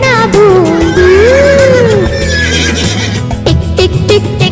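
A horse neighs loudly in a long, wavering whinny near the start, with quieter horse calls after it, all laid over a bouncy children's song with steady instrumental backing.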